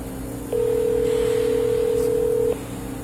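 Steady telephone dial tone starts about half a second in and holds for two seconds before cutting off, over faint background hum with no talk; the phone is at a Rockwall Sheriff's Office.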